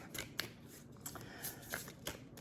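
Soft papery flicks and riffles repeat irregularly as tarot cards are shuffled, quiet and close, with no talking.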